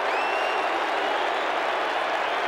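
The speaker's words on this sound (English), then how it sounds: "the crowd fairly thickly reacting with a boo for that passage of play by Essendon" A large football crowd at a 1989 VFL preliminary final between Geelong and Essendon gives off a sustained, thick roar of booing and noise from the stands, continuous and fairly loud.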